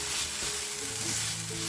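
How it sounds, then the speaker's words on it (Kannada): Ginger garlic paste fries in a hot pan with a steady, close sizzle, and faint stirring can be heard through it. "ಶುಂಠಿ ಬೆಳ್ಳುಳ್ಳಿ ಪೇಸ್ಟ್ ಹಾಕಿ ಅದರ ಹಸಿ ವಾಸನೆ ಹೋಗೋ ತನಕ ನಾವು ಫ್ರೈ ಮಾಡ್ಕೋಬೇಕು"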